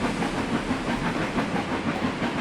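A Welsh Highland Railway train runs between Porthmadog and Rhyd Ddu, producing a steady, close rumble with rhythmic clatter from the wheels and a hissing wash of noise throughout.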